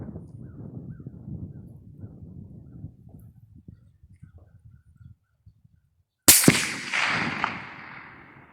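A single loud, sharp rifle shot fired at long-range targets in strong wind cracks out after several seconds of quiet handling noises, followed by a ringing, fading echo.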